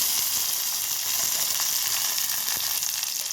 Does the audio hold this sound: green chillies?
yes